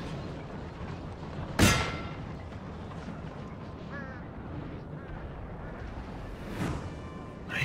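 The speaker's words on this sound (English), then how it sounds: "Let's go for a barrage. Start hitting his artillery." Artillery fires in Napoleon Total War, a loud boom followed later by a second, softer distant one over battlefield ambience with faint voices.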